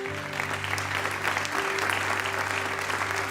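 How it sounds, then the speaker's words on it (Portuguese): A church congregation applauding the Lord Jesus during a sermon, sustained dense clapping from a large crowd that holds steady for the whole stretch, loud and close, with no voice over it. "aplauda o Senhor Jesus"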